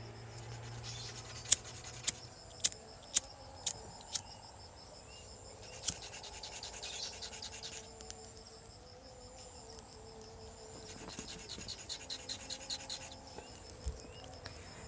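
Hard steel ignition contact points for a Colt 165 engine are sanded by hand in quick, close scratchy strokes. The strokes come in short bursts with pauses, some as sharp single rasps and others as rapid runs, over a quiet background.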